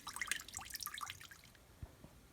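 Water draining from the radiator of a 1993 Chevy Lumina APV during a coolant flush, with a brisk, uneven splash and trickle that thins out after about a second and a half, followed by a few faint drips.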